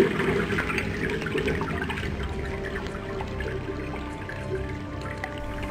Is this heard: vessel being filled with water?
yes